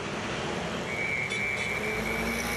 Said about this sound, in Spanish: Este es el sonido de un país bajo aislamiento social